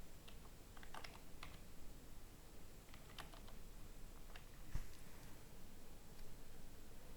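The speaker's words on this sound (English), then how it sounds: "So here we type accounting software" Fingers typing on a computer keyboard while entering text into Sage Business Cloud Accounting software, a steady patter of light clicks with a few sharper keystrokes over faint room hiss, close and with no voices.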